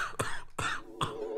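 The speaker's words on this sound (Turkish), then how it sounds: "Bak nasıl öksürüyorum." Three sharp, harsh coughs from a nearby person, evenly spaced in quick succession with short pauses between them.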